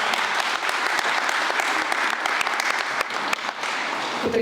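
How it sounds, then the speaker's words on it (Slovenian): A hall audience at a military museum event in Pivka applauds heartily, a dense steady clatter of many hands with sharp individual claps standing out, close and continuous. "Dajmo je velik aplavz."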